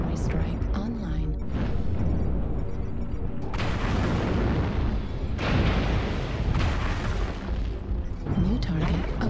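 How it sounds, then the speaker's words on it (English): Artillery strike explosions in the mech combat game MechWarrior Online: heavy booming blasts and rumbling bursts dominate throughout, with several loud surges, while a voice talks over much of it. "Artillery strike online."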